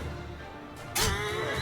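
A horse neighs in a war video game, a loud whinny that breaks out over a steady rumbling battlefield background.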